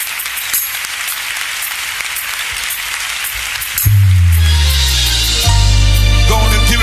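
A church congregation claps together in a scattered, rhythmic burst, then sustained keyboard or organ chords come in loudly over the continuing applause.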